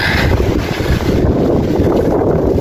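Steady roaring wind on a foggy, drizzly trail on Mount Merbabu buffets the microphone, a loud continuous rush with no breaks and no voices.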